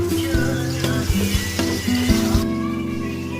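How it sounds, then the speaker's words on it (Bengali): Potatoes frying in a wok give a loud steady sizzle up close, while strong tonal humming and whining from nearby equipment or music run through it and fade partway. "আমরা কড়াইতে দিয়ে দিলাম আলু এখন ফ্রাই হবে"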